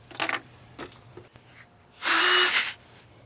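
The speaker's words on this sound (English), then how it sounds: "Let's drill another starter hole." A few scattered knocks and clicks, then a power drill whirs loudly for under a second, drilling a starter hole, before stopping.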